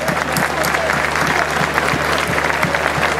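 A live crowd bursts into loud, dense applause for a big band at a night festival concert, sustained clapping close and continuous across the whole stretch.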